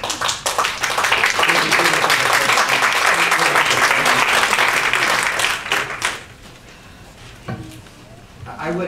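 Townspeople at a public hearing on a house demolition burst into loud, dense applause that holds for about six seconds, then fades to a few scattered claps and quiet room noise.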